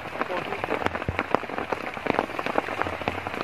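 Steady rain pattering on a mountain trail during a wet climb up Kelud volcano via the Laharpang route, a dense field of close drops and splashes with occasional louder hits, no talk.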